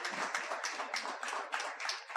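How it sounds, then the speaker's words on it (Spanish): Church congregation clapping together in a steady, rapid rhythm, many hands at close range, sustained and lively with no speech over it. "Dele un fuerte aplauso al Señor"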